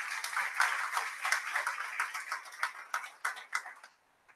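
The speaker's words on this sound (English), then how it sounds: "Please give her a round of applause for that." An audience at a women's parliament launch event in Mumbai breaks into steady, dense applause that fills the room, then tapers off into a few last claps and stops.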